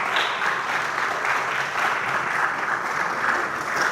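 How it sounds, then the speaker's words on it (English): A student conference audience applauds a team heading to the stage, dense steady clapping from many hands sustained evenly from start to finish. "So kindly give them a round of applause"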